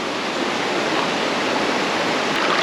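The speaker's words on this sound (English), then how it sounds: "Watch your footing as the trail narrows and the current quickens." Rushing river current quickening along a narrow trail toward a hidden waterfall near Puerto Vallarta, a steady, loud, unbroken broadband roar of flowing water close by with no talk.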